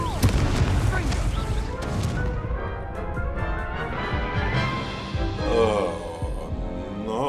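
An Incendio fire spell bursts in Hogwarts Legacy, a booming, whooshing blast that opens loudly and then rolls on as a dense wash of game effects and music, with voices over it.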